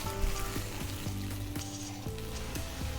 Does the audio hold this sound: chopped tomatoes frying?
yes